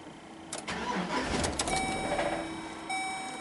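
A Chevy Express van cranks with an intermittent no-crank fault, fires briefly and stalls: a short starter whir, a rough catch of the engine, then quiet with a faint electronic tone, close up.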